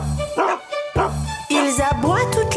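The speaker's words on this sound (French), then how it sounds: "Ils aboient toute la journée dans la drôle de ferme de Papy Henri." Several dogs bark in a playful children's song about a funny farm, repeated bright woofs in rhythmic bursts set over music, loud and close.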